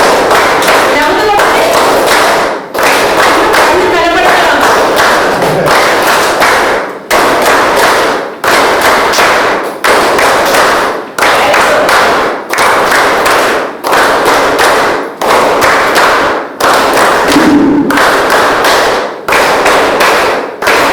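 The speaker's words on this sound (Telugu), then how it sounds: "అరవింద్కి ఒకసారి క్లాప్ చేయండి గట్టిగా" Loud, dense applause from an audience cheering Arvind at a Sunday Funday meditation gathering, sustained clapping with brief dips in intensity throughout.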